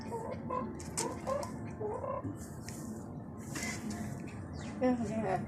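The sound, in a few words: person imitating chicken clucking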